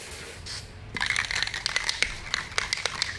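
Paint on a go-kart body built as a casket kart is scuffed after flames are applied, producing quick close scratchy rubbing strokes in an irregular rhythm that start after a short quiet moment.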